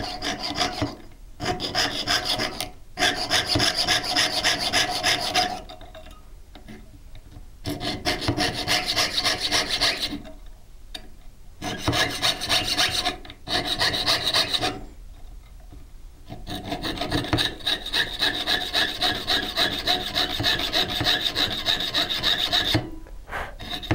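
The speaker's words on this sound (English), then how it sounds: "Now I'm going to start sawing." Fine jeweler's saw blade rasping through sheet metal in quick, even strokes, close up, broken by several short pauses.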